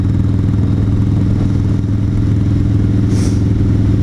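Motorcycle engine running steadily and close for a few seconds as the rider works the throttle on a Memorial Day ride, a constant low mechanical drone with faint clatter.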